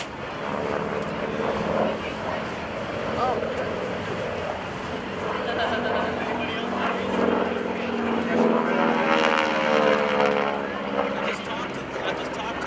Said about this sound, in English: This aircraft was known as the Pilot Maker. It was manufactured by North American Aviation.